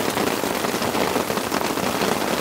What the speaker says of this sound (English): the rain is coming down in what I would describe as a viscous deluge. It's heavy and consistent and thick, and it's just smashing the tarp.